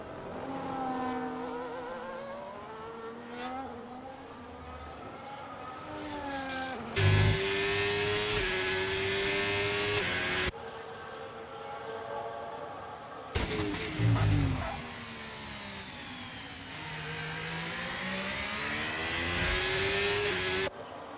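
A Formula 1 car on a flying lap during Bahrain pre-season testing, its high-pitched engine rising and falling through upshifts and downshifts, with sharp onboard bursts cutting between quieter, more distant passages.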